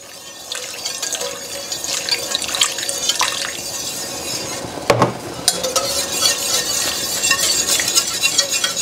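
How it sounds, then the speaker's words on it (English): Cornstarch slurry being whisked into a chicken sauce, a steady wet liquid stirring and dripping texture that continues throughout, with a sharp clink near the middle. "I'm going to add about 1/2 of this in here while I'm whisking."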